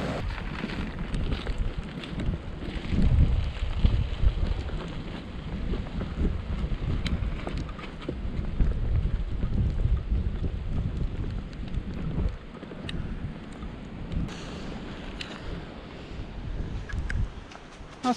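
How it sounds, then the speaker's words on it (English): Steady wind gusts near a canal, rumbling and buffeting broadband noise against the microphone for the whole stretch, rising and easing slightly without pause and with no voices. "the wind's going in the opposite direction now"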